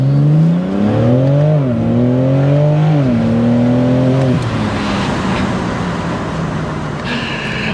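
A 2024 BMW M4 Competition convertible with its top down revs loudly and close by, the engine note climbing and falling in repeated sweeps before settling into a steadier rumble as it pulls away.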